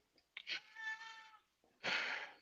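A cat meows close by during a podcast, with a drawn-out wavering meow followed by a short breathy cry, alone against a quiet background.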